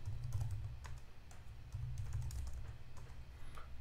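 Someone types on a computer keyboard at a steady pace, with quiet, close key clicks that come in short runs with brief pauses between them.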